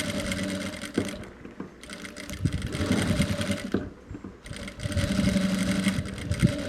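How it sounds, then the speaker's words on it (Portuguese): A sewing machine with a presser foot runs around the edge of a patchwork rag rug in steady, loud whirring stretches, pausing briefly twice before starting again, close by and with no talking. "Vou costurar toda a volta com um pezinho de máquina."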